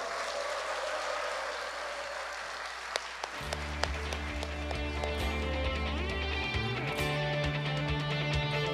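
Crowd applause and cheering close a Korean national independence rally, dense clapping for the first few seconds before shifting into loud music with a steady beat and layered instruments.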